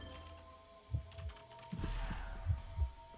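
Heartbeat warning from the video game Identity V, a faint, muffled double-thump pulse repeating a few times, soft and low over a quiet hum.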